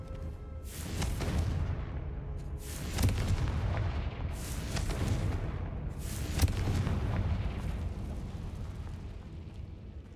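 Confringo fire spell blasts in Hogwarts Legacy, three loud booming bursts spaced a few seconds apart, each with a crackling fiery tail that fades into a low rumble, with no talk.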